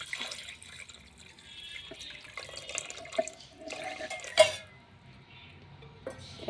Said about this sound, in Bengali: এখন একটু পানি দিয়ে দেবো, অল্প একটু পানি দিয়ে